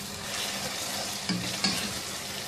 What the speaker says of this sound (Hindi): 500 ग्राम या आधा किलो चिकन की कलेजी, इसको तकरीबन 3-4 मिनट अच्छी तरह से भून लेंगे